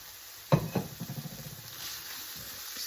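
Cooked, drained ground beef stirred in a pan, one sharp scrape of the utensil followed by soft crackling sizzle and faint rustling, quiet and close, no talking.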